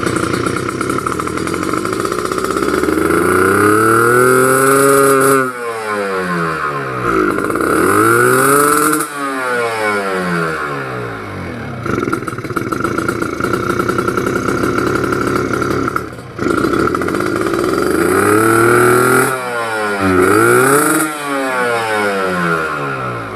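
A two-stroke motorcycle engine revved repeatedly during carburetor tuning, loud and close, with rising and falling throttle sweeps between steady high-rpm holds and short dips toward idle.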